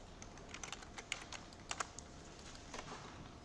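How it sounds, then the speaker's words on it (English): Quiet typing on a computer keyboard as a search is entered, with irregular light key clicks in short bursts and brief pauses, heard alone at close range. "I'm just going to type in San Francisco"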